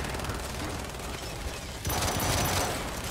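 Sustained automatic gunfire in the co-op shooter Gears 5 rattles continuously during a firefight against a snatcher, growing louder and denser partway through, with no talk over it.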